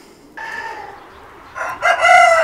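Two Hamburg hens and a Hamburg rooster outdoors in cold weather: a soft clucking call is followed by a loud, close rooster crow rising at the end, with no talking.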